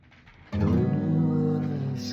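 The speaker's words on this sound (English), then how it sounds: "So if I was just strumming, because it's hard for me to finger pick" A single guitar chord strummed on an acoustic guitar, the opening of a song, ringing out loud and close and sustaining for a couple of seconds after a soft lead-in.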